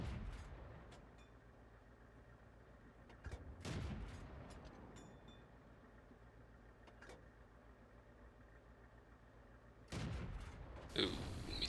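Tank cannon fire in World of Tanks, a few sharp booming shots spaced several seconds apart over a low, steady engine hum, with a louder burst near the end.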